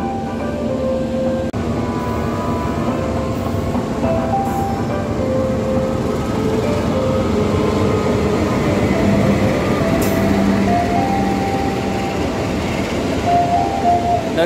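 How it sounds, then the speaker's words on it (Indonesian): The Brantas passenger train arrives at Tegal station in Indonesia with a continuous heavy rumble of railcars rolling on the track. Faint wheel squeals and clanks run under it the whole time. "perjalanan kereta api Berantas sudah tiba di stasiun Tegal"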